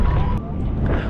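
Cold wind gusts across the open salt flat of Salar de Uyuni in Bolivia, buffeting the microphone with a loud, steady low roar while someone talks over it.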